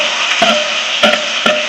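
Mustard seeds, cumin and onion sizzle in hot oil for a drumstick-leaf stir-fry, a steady close hiss broken by three sharp bursts of stirring scrapes, with no voices.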